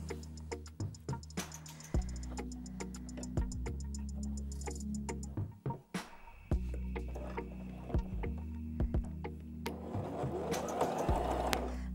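Mini sewing machine for kids stitching through double-thickness fabric, a steady close mechanical ticking and whirring with quick rhythmic needle strokes, one short pause midway, then strained running resumes, alone without talk.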